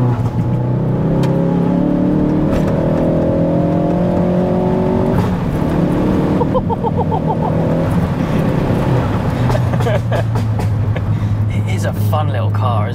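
A 380 BHP fourth-generation Ford Focus ST revs hard under acceleration, its loud steady engine drone rising and falling in pitch inside the cabin while people talk over it throughout.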